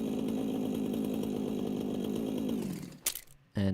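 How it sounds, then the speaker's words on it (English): Video game chainsaw cutting down trees: a steady, loud mechanical buzzing drone that runs for over two seconds, then sputters out into brief bursts and clicks. "Got a chainsaw to cut down the trees."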